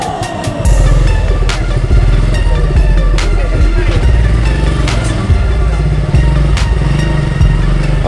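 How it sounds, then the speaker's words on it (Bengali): A motorbike rides into a busy Bangladeshi market near Kasaibari, its engine running loud and close throughout with clattering and crowd bustle around it. "আমার বাইক বাজারে ঢুকবে।"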